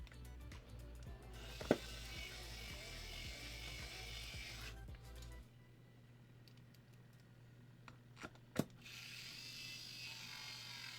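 Electric screwdriver fitted with a long bit driving back screws, a steady motor whir for about five seconds that then cuts off, with a few sharp clicks and taps scattered around it.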